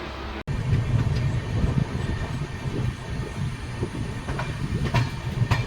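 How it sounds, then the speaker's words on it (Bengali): The Brahmaputra Mail train slowly entering New Jalpaiguri station at night rumbles steadily with low rolling noise and occasional clickety-clack of wheels, continuous and close, with no voices. "ট্রেন ধীরে ধীরে এনজেপি স্টেশন এন্টার করছে"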